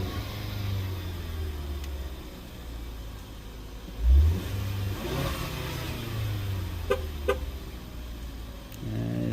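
A 2017 Ford Edge with the 2.0L EcoBoost engine runs steadily with a low, continuous drone and a faint metallic rattle from a failing turbo wastegate, broken by one brief rev surge and a few sharp clicks.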